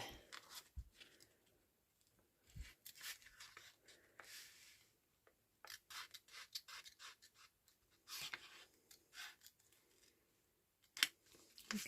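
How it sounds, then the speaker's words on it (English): Scissors snip through paper in short, crisp cuts, some in quick bursts and others spaced apart, close and fairly quiet, with faint rustling between. "just come in with my scissors and snip."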